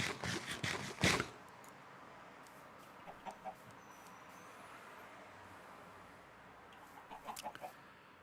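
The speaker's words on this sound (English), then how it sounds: "There are chickens walking around here." Chickens in the Minecraft video game, with a burst of clucking near the start followed by a few short, faint clucks scattered over a quiet background.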